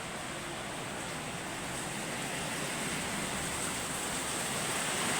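Steady downpour of heavy rain through the night, heard as a broad continuous wash of noise, slightly distant and softer, swelling a little toward the end with no speech.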